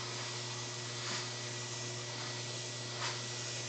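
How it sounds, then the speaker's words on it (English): An airbrush sprays paint in a steady, close hiss while a wood grain finish is painted over masking tape, with a brief louder burst near the start and another near the end. "you're literally going to spray about halfway over the tape and spray away from here"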